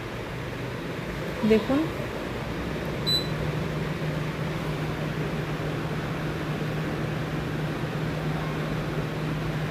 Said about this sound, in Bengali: আমি 195 ডিগ্রি সেলসিয়াস তাপমাত্রায় আমি 15 মিনিটের জন্য এয়ার ফ্রাই করে নেব